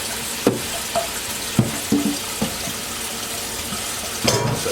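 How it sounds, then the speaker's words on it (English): Hands rinsed under a running kitchen tap, a steady wash of water broken by a few soft splashes and knocks close by, with no talking. "I'm gonna wash my hands real quick, or at least give them a good solid rinsing"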